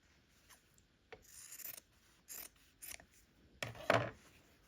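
Scissors snip through quilt fabric in a few short, quiet cuts, irregularly spaced, soft rasping strokes close by with nothing else around them.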